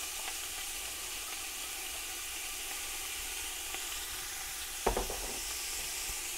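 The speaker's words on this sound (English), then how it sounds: "And then your diced onions, and see that lovely sizzle." Diced onions sizzle loudly in hot oil, a dense continuous crackling hiss with a brief clatter of stirring partway through.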